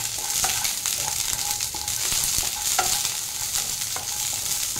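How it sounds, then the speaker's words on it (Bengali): Lentil dumplings (bori) fry with bitter gourd in an Indian kadai, a continuous sizzle broken by repeated scraping and clinking stirring strokes, heard up close. "এবার এটা একটু ফ্রাই করে নেব।"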